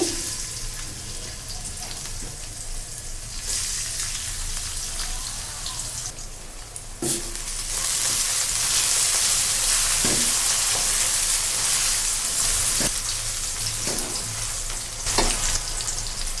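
Onions hit hot oil in a pan, setting off a loud, continuous crackling sizzle that swells after a few seconds, broken by sharp clinks and stirring knocks.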